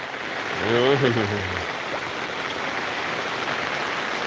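Steady rain pours outdoors, a dense even hiss of drops on surfaces running throughout, with a voice briefly heard near the start.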